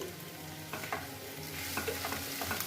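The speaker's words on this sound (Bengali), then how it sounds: "নুন দিয়ে ভালো করে আবার আমি কষাচ্ছি" Mushroom curry with potatoes and salt sizzles in a pan while a spatula stirs and scrapes in several quick strokes, the frying hiss steady and fairly soft underneath.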